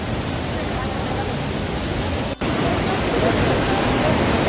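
Devkund waterfall in Maharashtra roars as a loud, steady wash of falling water, close and constant, with a momentary dropout midway.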